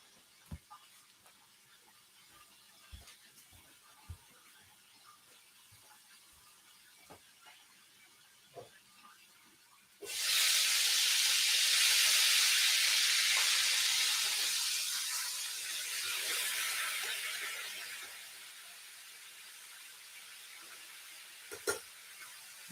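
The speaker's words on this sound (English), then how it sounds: "Rob, I'm going to flip the chicken." Loud steady sizzling and hissing of chicken frying in hot oil in a square chicken fryer bursts in midway, swelling and then easing back to a softer crackle.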